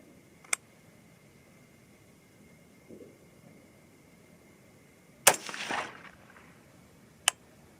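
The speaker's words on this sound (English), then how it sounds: "let's go ahead and see now how these shoot at the target just below the last one I shot" Two sharp shots from a 6mm ARC AR-15 rifle fired at a target outdoors, one around mid-clip with a brief rumbling tail and a fainter crack near the end, with quiet background between.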